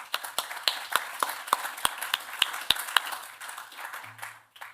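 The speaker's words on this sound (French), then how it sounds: "On peut les applaudir pour cette table ronde." Sparse applause after a round-table panel at a digital business conference, a few distinct, fairly close claps at an uneven rhythm before they fade into quiet.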